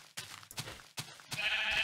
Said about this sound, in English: Oh, we got lots of sheep.